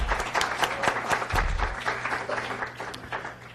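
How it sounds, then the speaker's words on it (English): Audience applause for a conference panel in a live-streamed hall, a fairly loud burst of clapping that thins and fades toward the end. "So how about another round of applause for our panelists?"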